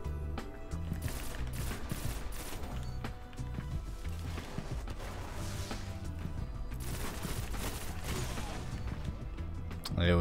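Bursts of gunfire from the Praedyth's Timepiece pulse rifle in the video game Destiny, rapid repeated shots that keep going throughout, mixed with busy game sound and someone talking over them.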